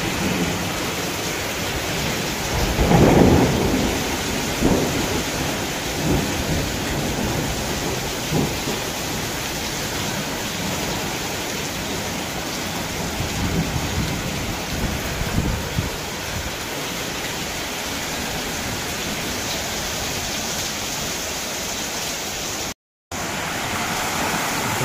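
Heavy rain roars steadily over a roof during a thunderstorm. A low rumble of thunder swells near the start, then the downpour keeps a dense, even hiss all the way through.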